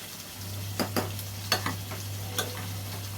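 Coriander egg frying in oil in a pan, a steady sizzle with several sharp scraping stir strokes spaced through it over a low constant hum.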